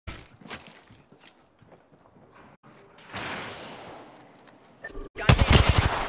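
Gunfire in the video game Apex Legends: scattered distant shots and footsteps at first, then a louder stretch of shooting that ends in a close, rapid burst of automatic fire.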